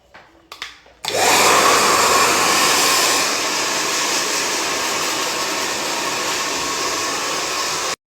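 Hair dryer switching on after a few brief handling knocks, then blowing loudly and steadily with a constant airy roar, slightly easing after a couple of seconds, then cutting off at the end.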